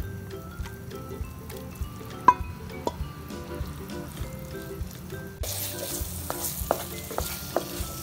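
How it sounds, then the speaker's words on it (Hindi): Mawa being stirred into melted sugar in a pan, with a soft steady sizzle under repeated scraping and clicking strokes of a spoon, a little brighter and louder in the last few seconds. "अब हम इसको थोड़ी देर तक ऐसे ही चलाएंगे जिससे ये सारी चीज़ें मिक्स हो जाएं"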